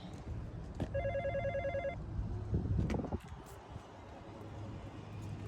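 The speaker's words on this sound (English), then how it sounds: "I hear something ringing." A telephone rings in a short electronic trill inside a Detroit juvenile facility building, then stops, followed by a few clunks and background room noise.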